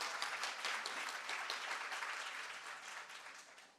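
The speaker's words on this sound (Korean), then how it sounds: "다 함께 박수를 해주시죠." A hall of attendees at the opening of a 2019 special education society spring academic conference applauds together, a dense steady wash of many hands that slowly fades out, heard from a distance with no talk.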